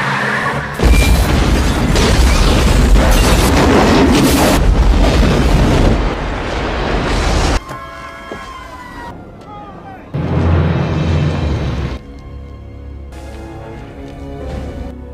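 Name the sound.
bomb explosion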